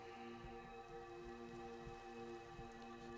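Steady rain falls across a Minecraft world on an afternoon, a soft continuous hiss with scattered faint drops and a low hum running beneath, no voices.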